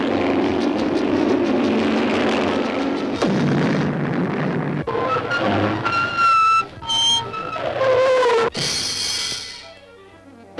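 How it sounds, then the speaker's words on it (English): A cartoon roar like a giant jet builds over a loud, dense rumble during a hot rod chase, followed by sharp sliding tones and bright crashing bursts toward the end. "But suddenly another roar, like the sound of a giant jet, attracts their attention."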